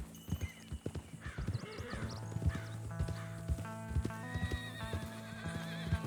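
Horses in Red Dead Redemption 2 clip-clopping along in a steady, close rhythm, with a horse whinnying over the hoofbeats and no talking.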